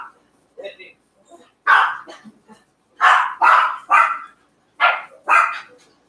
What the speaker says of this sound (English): You guys know my dogs always go crazy over here.